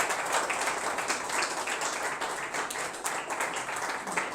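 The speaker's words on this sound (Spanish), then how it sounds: "Puedes darle un aplauso al Rey" A church congregation applauds during a sermon in a steady, fairly quiet wash of many hands clapping that lasts a few seconds.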